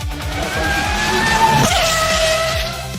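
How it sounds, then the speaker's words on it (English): A Pagani Huayra V12 hypercar screams at high revs with rapid rising gear pulls, a shift and a brief squeal, loud and continuous with no talk. "This car is most famous for its V12 engine sound."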